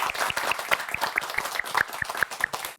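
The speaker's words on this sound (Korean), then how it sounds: "그러면 두 분을 큰 박수로 한번 맞이해 보겠습니다." A crowd at a Catholic senior academy's Lenten concert gives the duo of performers a big round of applause, dense, lively clapping filling the room at close range with no talking over it.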